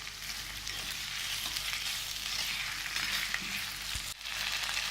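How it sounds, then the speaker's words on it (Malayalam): Chopped tomatoes hitting hot oil in a pan of raw plantain curry, a continuous soft sizzle and crackle with a light stir, fairly quiet and steady, no voices. "ഇനി അതിലേക്ക് ചോപ്പ് ചെയ്ത് വെച്ചിരിക്കുന്ന തക്കാളി ഇടാം."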